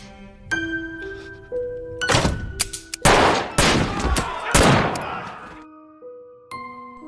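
Loud pistol gunshots burst in rapid clusters between plain electronic tones, the blasts sharp and close.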